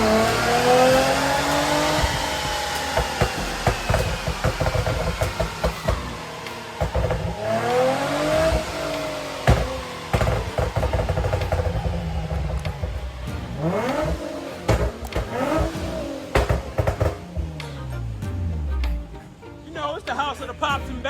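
A Honda B20B4 turbocharged car engine revs repeatedly on a dyno, rising and falling through several loud pulls with pops and crackles, while people talk nearby.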